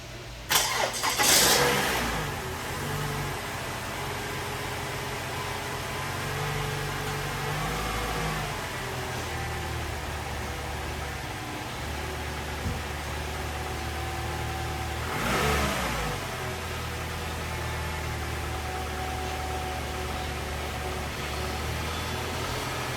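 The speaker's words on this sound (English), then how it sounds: "We're going to start it up." A Toyota RAV4 cranks and fires up after a transmission rebuild, running on a jump box, with a sharp start, a steady idle, and a second rev burst midway, all loud and close with no voices.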